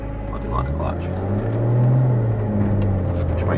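Single-turbo N54-engined BMW E46 M3 pulling away, a low steady engine rumble building slightly heard from inside the car, with a voice speaking over it.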